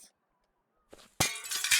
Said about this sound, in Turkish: Camı kırdım.